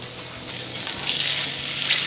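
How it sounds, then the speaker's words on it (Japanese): Bone-in lamb sizzles steadily in oil over medium heat in a pan, a dense, even frying hiss that swells slightly partway through, close and continuous with no voices. "じっくり焼いていきます。"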